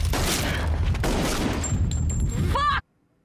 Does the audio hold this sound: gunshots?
yes